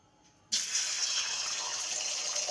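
Hot water being poured while making Maggi noodles, a sudden steady gushing pour that starts after a short quiet lead-in and continues evenly.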